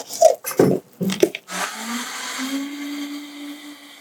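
A blender blending frozen bananas whirs loudly after a few short bursts of knocking, then settles into a steady high-pitched grinding hum that runs on alone.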